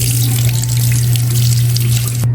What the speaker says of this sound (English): I like to always wash them with warm water.